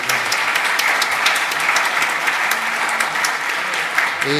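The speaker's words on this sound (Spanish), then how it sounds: "pues también que ese aplauso sea para ellos" An audience at a mock criminal oral trial at a law fair breaks into steady, dense applause that stays loud and even throughout, with a faint voice beneath it.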